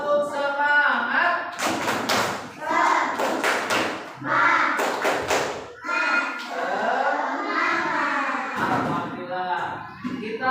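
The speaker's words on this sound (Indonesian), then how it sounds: "Coba tepuk semangat." An Indonesian classroom performs the rhythmic tepuk semangat clapping routine, with bursts of sharp group claps alternating with children chanting and voices in between, close and lively.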